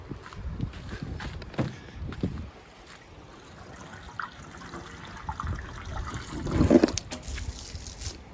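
Water drains from a motorhome water tank as a faint, intermittent trickle and dribble, swelling to a brief louder gush near the end against otherwise quiet surroundings.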